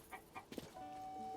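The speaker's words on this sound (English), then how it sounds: "Chickens!" Chickens cluck in short bursts in the video game Zelda: Tears of the Kingdom at South Akala Stable, a few quick calls near the start over soft ambient background and a sustained tone.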